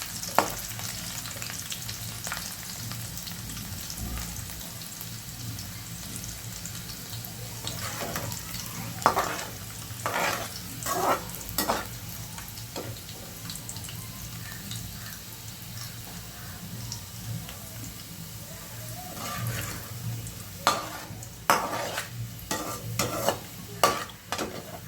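Garlic fries in a pan for a crispy corn chivda. A soft, steady sizzle runs under irregular stirring scrapes and clatters that grow busier toward the end, close and moderately quiet, no talking.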